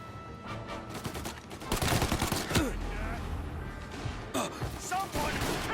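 Gunfire in Mafia Definitive Edition, with bursts and shots rattling across a busy in-game firefight, mixed with crashes and game noise under a shouting voice.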